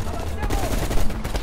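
Gunfire in the shooter game Black Ops Cold War, a loud burst of dense, rapid shots filling the moment with no pause.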